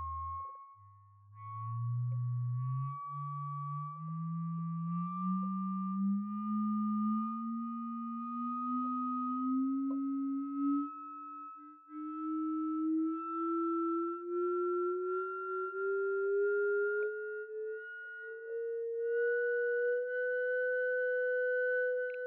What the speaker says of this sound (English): If I now bring up the second one further, I should start to hear two frequencies,